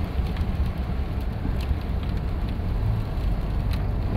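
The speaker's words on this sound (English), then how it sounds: "it could be because it's raining" Rain patters steadily on a parked 2008 Chevy Colorado pickup, a dense even hiss of drops on the body heard from inside, constant and moderately loud with no speech.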